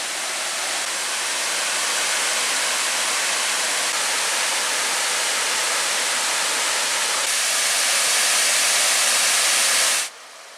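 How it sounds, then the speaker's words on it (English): Shining Cloud Falls, a waterfall in the Porcupine Mountains of Michigan, roars as a steady, loud, close broadband rush that holds constant until it cuts off sharply near the end. "And this is Shining Cloud Falls."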